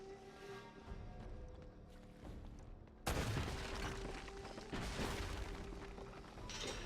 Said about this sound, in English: you'll find two barrels you must shoot in order to let Sully down the blocked ladder.